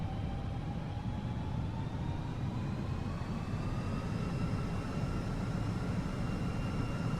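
A320 airliner engines spool up for takeoff in a flight simulator game, a steady broad roar with whining tones that climb slowly in pitch throughout, with no talking.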